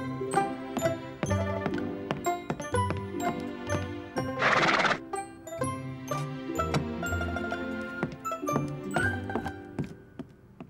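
Animated Western cartoon horse whinnying and clip-clopping, rhythmic hoof clops with a loud shrill neigh in the middle, mixed over busy sound effects and music.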